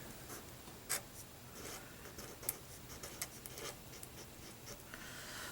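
A thin marker writes on paper in quiet, close strokes, with several short scratchy bursts and soft rubbing between them, no voices.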